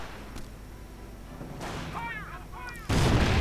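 A land mine blows up in a World War II real-time strategy video game, a sudden loud blast near the end, preceded by quieter battlefield noise and whistling sounds.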